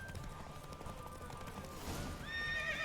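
Horse in a race in the video game The Witcher 3, rapid galloping hoofbeats throughout, ending with a loud, close high-pitched neigh over the running.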